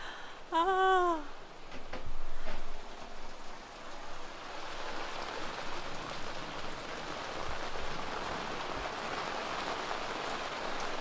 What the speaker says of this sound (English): This storm has just come on in. Oh, there's some lightning. Woo-hoo-hoo! It's pouring down behind us.